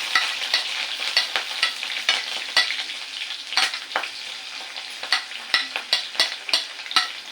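Fennel seeds, two green chilies and ginger fry in coconut oil for a Kerala curry, a steady sizzle broken by quick rhythmic scrapes of a spoon stirring through the pan, close and alone.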